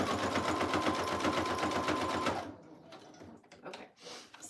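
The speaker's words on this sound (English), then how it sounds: "So now I'm gonna sew the front cover one more time" A sewing machine runs steadily through fabric, sewing a front cover with a rapid, even stitching rhythm for about two and a half seconds before stopping, leaving faint handling sounds.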